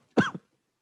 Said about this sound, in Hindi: तभी खांसी आ रही है बार बार।